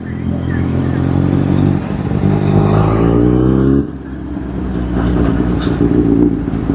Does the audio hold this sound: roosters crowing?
no